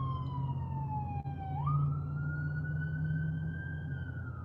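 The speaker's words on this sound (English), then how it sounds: "I haven't had the ambulance in a couple of days, but there they go today." An ambulance siren wails steadily in the distance, its pitch dropping then rising again as the vehicle passes near a workplace across from a jail, a continuous tone over a low background hum with no talk.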